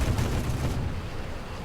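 Heavy 23mm and 37mm autocannon fire from a MiG-15bis jet in War Thunder, a dense roaring burst of rapid booming shots that cuts off partway and leaves a rumbling tail, loud and close.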